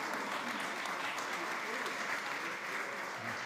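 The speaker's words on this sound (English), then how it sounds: "Please give him a huge round of applause" Sustained audience applause for hog farmer Paul Willis of Niman Ranch at a food summit, a dense steady clapping that fills the room from start to finish, with some faint voices mixed in.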